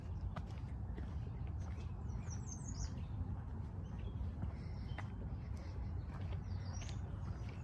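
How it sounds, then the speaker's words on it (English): Faint, scattered bird chirps high above a steady, rustling outdoor background at a lakeside state park campsite, with occasional soft bumps. "Listen to the birds."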